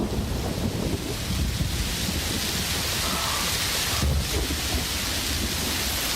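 Heavy rain roars steadily with low rumbling thunder and gusty wind noise throughout, dense and unbroken.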